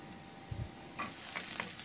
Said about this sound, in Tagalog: Magpainit muna ako ng mantika at igisa ko na rin yung bawang